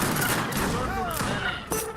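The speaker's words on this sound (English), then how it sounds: "these cannons are doing some work." Cannons fire in an Age of Empires 3 battle with Middle Eastern falconets, a dense stream of booming shots and crackling impacts filling the whole stretch, with other battle noise mixed in.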